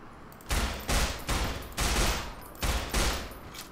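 Bursts of gunfire in the video game Estranged, about six loud rapid volleys in an uneven rhythm, each a dense crackling fusillade, close and alone without talk.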